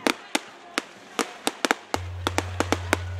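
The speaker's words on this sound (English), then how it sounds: "When the clock struck 12, we enjoyed a great fireworks show on the beach." A midnight fireworks show on a beach in St. Lucia brings a string of sharp, irregular bangs and pops, some close together, over a low steady rumble from about halfway through.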